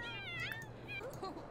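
Cat meows from The Sims 4 life-simulation game, several short rising and falling mews in quick succession, close and clear over a low steady background hum.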